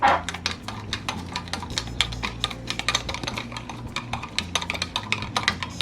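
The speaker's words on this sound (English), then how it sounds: "again we stir" A spoon stirring sugar into a yeast mixture in a bowl, producing a rapid run of light clicks and scrapes against the sides, close and continuous without speech.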